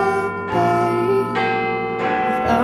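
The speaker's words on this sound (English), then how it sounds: "we're going to let you listen to the entirety of this last midday chime for some time" Big Ben, the clock bell in London, rings its last midday chime before a long silence for repairs, with loud overlapping bell tones that ring and hum continuously as new strikes sound over the decaying ones.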